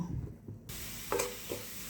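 Oil heating for a dal tempering gives a quiet, short sizzle, broken by a few soft stirring scrapes and clinks.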